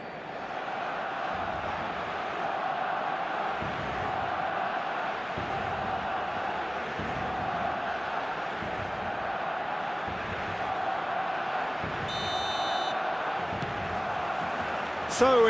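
Stadium crowd noise in the eFootball video game, a steady, moderately loud wash of massed voices and chanting throughout, with a brief electronic tone near the end.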